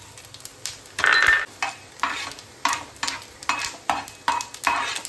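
Coriander seeds roast in oil in a pan, with a steady low sizzle and repeated rhythmic scraping strokes of a spatula, about a dozen close, evenly spaced stirs.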